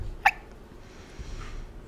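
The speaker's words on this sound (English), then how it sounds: "I'm sorry for the hiccups." One sharp, close hiccup bursts out near the start, followed by quiet breathing and faint background noise.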